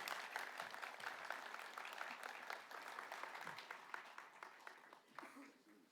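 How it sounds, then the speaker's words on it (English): Steady audience applause at a hall of fame induction ceremony, a dense continuous wash of many hands clapping for several seconds, moderately distant and even, tapering slightly at the end. "round of applause, Carl Karcher."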